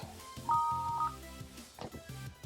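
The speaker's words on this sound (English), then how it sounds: "Why am I getting a phone call right now?" A phone rings for an incoming call with a short electronic tone, quiet and brief against faint background sound.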